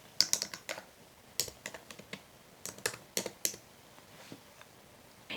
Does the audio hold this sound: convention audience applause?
no